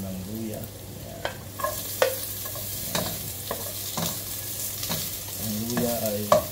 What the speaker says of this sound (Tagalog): Pag nag-brown na yan, sunod mo na ang luya.